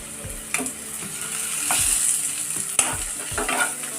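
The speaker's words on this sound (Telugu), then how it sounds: "ఇలా చూడండి, మనకి అల్లం వెల్లుల్లి పేస్ట్ కూడా వేగిపోయింది" Ginger garlic paste and onions fry in a pan with a continuous sizzle, while a spoon scrapes and stirs in intermittent close knocks over the hiss.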